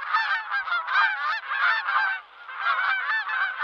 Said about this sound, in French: les oies caquettent encore, toujours